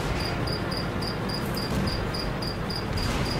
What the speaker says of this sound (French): Ah, vous entendez les grillons?